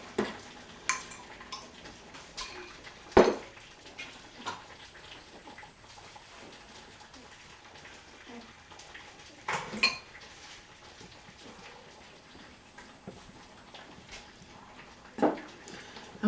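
Butter being worked into flour in a bowl for a basic buttery pie crust, quiet scraping with a few sharp clinks of utensil against bowl spaced several seconds apart.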